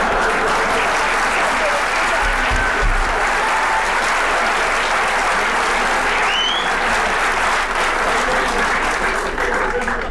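Studio audience at a Turkish TV comedy sketch show bursting into loud, sustained applause, dense clapping filling the whole stretch with a few scattered cheers.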